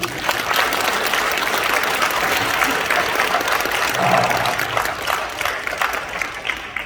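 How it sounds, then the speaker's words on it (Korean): A church congregation applauding during a sermon, dense sustained clapping from many hands, steady and full throughout with a faint voice or two rising briefly within it. "박수 한번 쳐보세요"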